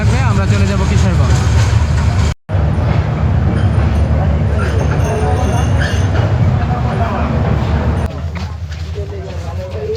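A passenger train runs from Gachihata toward its last stop at Kishorganj, a loud continuous rumble and rattle of the carriage, steady throughout with one momentary cutout.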